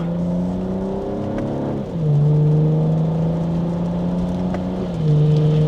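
A 2026 BMW M440i Gran Coupe in sport mode pulls in second gear, its engine droning loud and close inside the cabin, the pitch climbing steadily with short drops at quick gear shifts.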